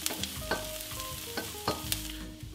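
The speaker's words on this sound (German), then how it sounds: "Einmal die Zwiebeln schön glasig braten, Knoblauch und Ingwer entsprechend mit dazugeben" Onions, garlic and ginger frying in a pan, with a steady close sizzle broken by several sharp scraping stirs over a few seconds and no voices.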